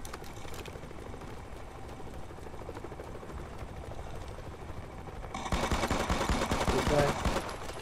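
Video game gunfire in MC5 multiplayer: quiet, scattered shots at first, then a louder burst of rapid automatic fire near the end, with players talking over it.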